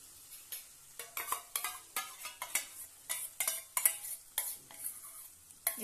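A spoon scrapes and clacks repeatedly through whisked yogurt being stirred into cooked-down tomatoes in a pot for Amritsari chicken, a quick irregular series of close, clear strokes with no talk.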